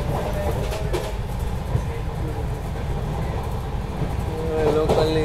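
A Tejas Express AC chair car running at about 130 km/h on the Ahmedabad–Mumbai line near Borivali gives a steady low interior rumble with faint rhythmic rail clatter, loud and continuous.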